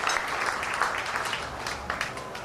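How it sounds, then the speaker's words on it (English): A crowd applauds officers at a Ganesh Utsav festival gathering, with steady, dense clapping throughout and no talk over it. "Let us give them a very beautiful round of applause for Prolgasya"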